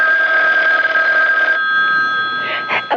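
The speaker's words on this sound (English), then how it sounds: "Oh, that's the phone, Parker." An old-fashioned telephone bell rings loudly and steadily in a vintage radio mystery drama, a sustained metallic trill that stops partway, followed by faint scene sounds.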